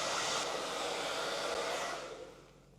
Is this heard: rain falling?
no